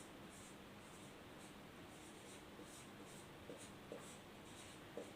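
A pen writing on paper while working a quadratic equation: faint, steady scratchy strokes with a few light taps, quiet and close under a hiss of background noise.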